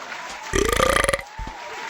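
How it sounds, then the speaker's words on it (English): A man lets out a single loud, real burp lasting under a second, with a rattling pulse, and the background is otherwise quiet. "That was my real burp, by the way."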